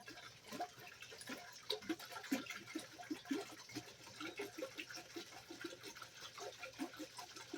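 A gallon of vinegar being poured for pickles, a faint gurgling, glugging trickle with irregular splashy pulses, quiet and close with no talk.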